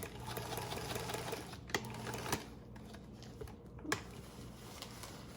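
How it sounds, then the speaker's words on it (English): Sewing machine stitching a seam on a hospital gown, a steady close mechanical whirr running throughout with a few sharper clacks, no speech. "Once you've got that seam sewn up"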